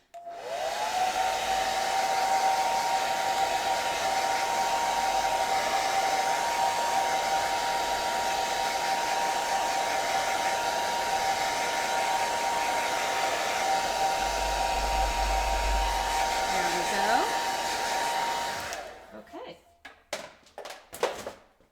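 A hair dryer blows over wet watercolor paint with a steady, loud, close whine for about eighteen seconds, then switches off, followed by a few soft clicks and handling sounds.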